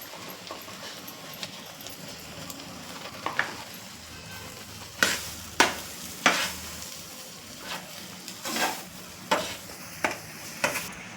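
Grated jaggery going into wheat-flour halwa as it fries in a pan, with soft sizzling under a string of close, distinct scraping stirs of the spoon, the strokes getting louder and more regular toward the end.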